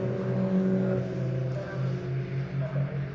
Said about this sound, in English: Here is Martin Wright in the Oryx sponsored car.